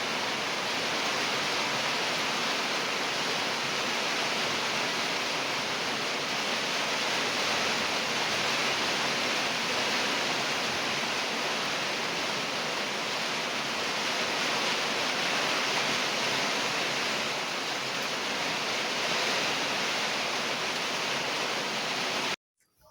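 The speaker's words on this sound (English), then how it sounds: "Really, you can see the downpour is really hard." A heavy countryside downpour pours down in a dense, loud, unbroken hiss that stays constant for over twenty seconds before cutting off abruptly, with no talking.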